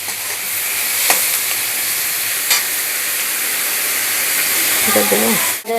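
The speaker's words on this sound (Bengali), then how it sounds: "এইভাবে লাল লাল করে আগে ভেজে নেব" Onions fry in a pan for a mutton curry, with a loud, dense sizzle and hiss, a few brisk utensil scrapes, and a short burst of voice near the end.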